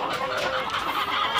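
Chickens cluck in a homemade coop with a sawdust-litter floor, their calls blending into a dense, steady clatter of overlapping fowl noise at fairly close range with no talking.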